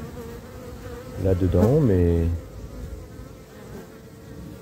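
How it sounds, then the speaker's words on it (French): Honey bees in an open autumn beehive keep up a dense, steady buzz throughout, with a person speaking briefly over it partway through. "en tout cas il y a pas mal d'abeilles"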